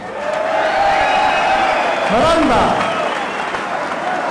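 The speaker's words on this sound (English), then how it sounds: "And let's have a nice round of applause for Jamie Chango Torres." Steady, dense applause from a large crowd at a boxing event fills the whole stretch, with a voice rising briefly through the noise midway.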